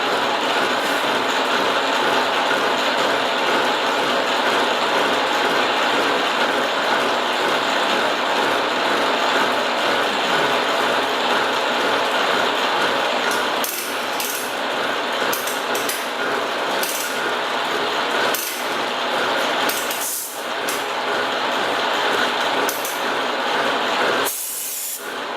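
A milling machine with large spiral high-speed steel plain-mill cutters feeds slowly through wood, giving a continuous loud hissing, grinding cut with a few sharp knocks near the end and no voices.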